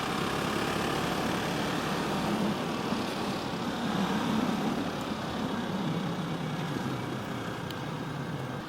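Husqvarna Svartpilen 701 motorcycle ridden on a winding road, a steady engine drone mixed with heavy wind rush that stays loud and even throughout, no talking.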